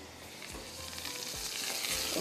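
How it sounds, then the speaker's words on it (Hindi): Hot tadka tempering sizzles as it is poured over raita, a steady frying hiss that builds slightly louder toward the end, with a few soft clinks of the pan, close and alone. "इसके ऊपर जाएगा ये तड़का।"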